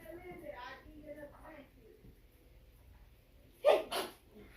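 Two quick sneezes in close succession, fairly near and sharp, following a person speaking in a kitchen while seasoning meat.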